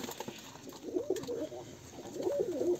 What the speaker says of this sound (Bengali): নতুন কবুতর দেখার পরে সবাই কিন্তু একটা অন্য রকমের ডাকাডাকি করতেছে